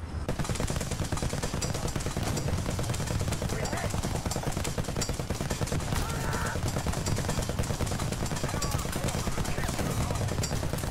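Sustained gunfire from the War Thunder video game blasts continuously, dense rapid shots like a machine gun filling the whole stretch at high loudness, with no pause.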